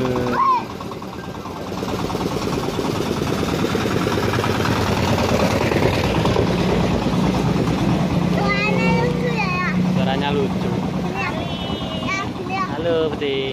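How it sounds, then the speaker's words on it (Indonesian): A low tractor engine rumbles steadily throughout as the tractor passes, with people talking over it. "Tuh ada traktor lewat."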